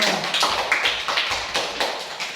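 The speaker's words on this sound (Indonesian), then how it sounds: "tepuk tangan dulu dari kelompok kamu" Classroom applause for a student group after their presentation: a dense run of quick hand claps with rhythmic accents, near and steady, no voices over it.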